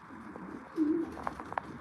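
A racing pigeon gives a soft, close coo, followed by a few faint, short sounds in a quiet setting.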